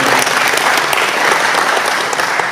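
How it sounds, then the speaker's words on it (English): An audience at a club meeting bursts into loud, close applause, a dense, unbroken patter of many hands clapping throughout with no voices rising above it. "So let's give Autumn a big round of applause"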